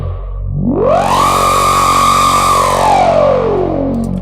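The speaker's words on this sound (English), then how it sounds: "massive sound with a lot of LFO on it and an automation that goes from 100 to 1" A synthesized impact sound built in Massive with heavy LFO automation: a loud, distorted tone that rises, holds steady, then slowly sweeps back down over about four seconds, thick with buzzing harmonics and no voices.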